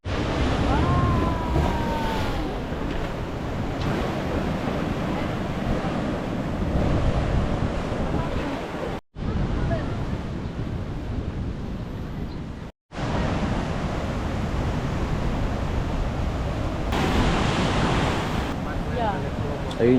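Strong ocean waves crash and wash continuously along a Bali shore near a temple, with heavy wind buffeting the microphone and faint voices in the background.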